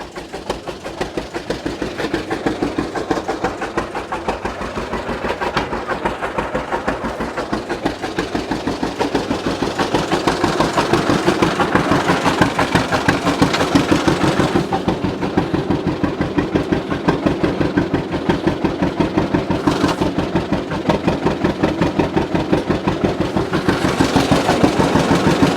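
Diesel engine of a John Deere 500A / 3020 tractor, left sitting for over ten years, idling steadily close by with a rapid, even chug and clatter that holds at a constant loudness throughout, with no talking over it.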